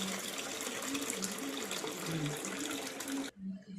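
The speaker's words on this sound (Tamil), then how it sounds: "அந்த கார்ன் ஆயிட்ட பிறகு தண்ணியை வடிகட்டிடணும்" Water drains from a pot of boiled corn in a steady, close pouring rush that runs for about three seconds, then stops abruptly.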